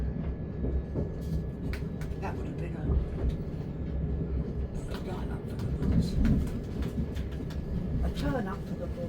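Southern passenger train pulling into Caterham station, a steady low rumble of wheels and carriage with faint rail clatter throughout, while a person speaks nearby over the noise.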